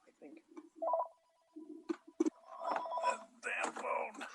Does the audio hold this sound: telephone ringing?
yes